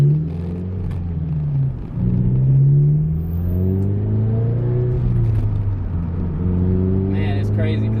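A manual FRS/GT86/BRZ sports car with a short shifter accelerates hard through its gears, the engine note climbing and dropping with each quick shift in a loud, steady in-cabin drone.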